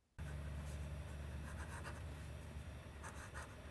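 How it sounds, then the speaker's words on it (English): Fountain pen with a fine nib writing in an Office Depot reporter's notebook, a close, faint scratching of nib on paper with soft intermittent strokes, no talking. "The next writing sample is done in an Office Depot reporter's notebook."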